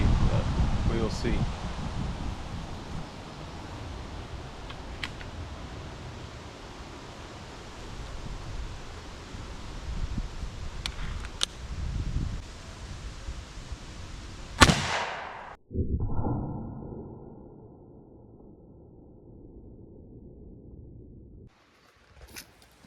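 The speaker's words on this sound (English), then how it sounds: "we're going to load this in and we're going to shoot it at that propane tank" An AEA Zeus .72 airgun fires a battery at a propane tank outdoors, a single sharp, loud blast cutting through steady wind noise, followed by a brief rattle and then near silence.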